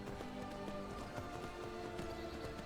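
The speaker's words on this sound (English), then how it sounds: "Oh, it's your horse." Hooves clip-clop steadily from a horse in Skyrim, a continuous run of quick, fairly faint thuds over an ambient outdoor game soundscape.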